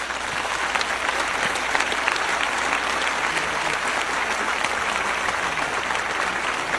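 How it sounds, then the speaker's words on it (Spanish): An audience at a religious talk about the Virgin Mary applauds steadily, a dense, even wash of clapping that holds at full strength for about seven seconds with no voices over it. "Vamos a darle un aplauso a la Virgen María."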